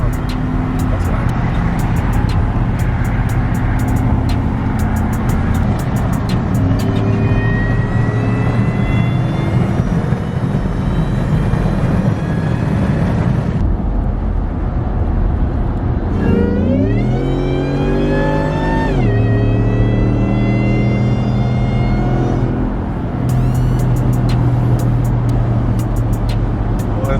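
A Shelby's engine drones loudly from inside the car while driving, holding steady then revving up through rising gear pulls and shifts, with a voice talking briefly over the cabin noise.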